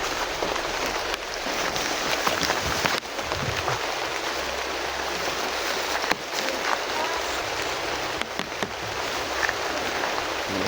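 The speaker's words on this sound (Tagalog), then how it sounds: "Ang lakas ng ulan" Heavy rain pours down in a steady, dense hiss that fills the whole stretch without a break, loud and close, with no voices over it.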